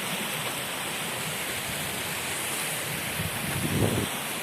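Water in a village stream flows strongly, a steady, dense rushing wash that holds constant throughout, with a slight surge near the end and no voices.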